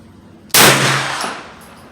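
A single loud, close shot from a 9mm Ruger PC Carbine Tactical with a Holosun red dot cracks sharply, then rings and fades over about a second outdoors at the range.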